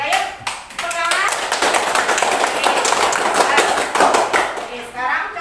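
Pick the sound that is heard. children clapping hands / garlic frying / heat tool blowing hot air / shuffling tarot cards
children clapping hands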